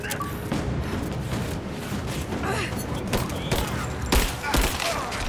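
Gunfire in Rise of the Tomb Raider played on Xbox One, a dense fusillade of shots with sharp louder cracks near the end, over continuous game noise with occasional clanks and crashes.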